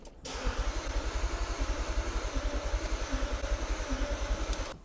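A VW Touareg fitted with a newly installed V8 engine cranks over in a steady, rapid rhythmic chug, the starter churning on and on at a moderate level without the engine catching.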